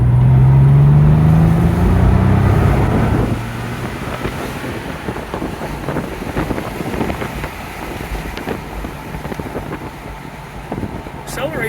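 A 1996 Porsche 911 Cabriolet pulls away hard, its engine note rising loudly over the first few seconds before settling into a steady, wind-buffeted drone as it keeps driving.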